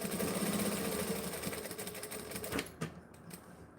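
A sewing machine stitches a towel topper in a rapid, steady mechanical whir that runs for a few seconds, then stops, leaving a couple of sharp clicks and handling sounds in a quiet room.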